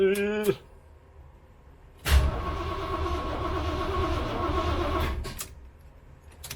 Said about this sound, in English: All we're doing is cranking it until we see some oil pressure.